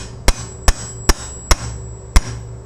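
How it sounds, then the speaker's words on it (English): Five sharp, evenly spaced knocks ring out as a washing machine drum is tapped down onto its splined shaft during a B7WA rebuild, each hit loud and close over a steady low hum. "tap that thing down. Make sure it goes all the way down."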